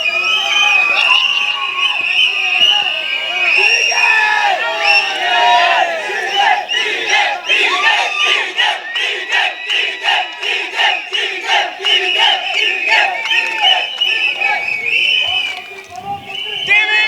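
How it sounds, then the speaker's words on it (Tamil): Loud, dense crowd cheering and shouting with applause at a Tamil political party rally, a sustained roar of voices and claps running throughout, dipping briefly near the end. "ஒரு பெரிய கரகோஷத்துடன் அவர்களை அழைக்கிறேன்."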